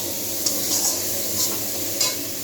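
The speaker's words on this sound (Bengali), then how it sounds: "এই যে মশলাটা এখানে দেখুন গাইস কষাচ্ছি" Masala being stir-fried in a pan for a lunchtime fish curry, a steady close sizzle with a few soft scrapes of a spatula against the pan.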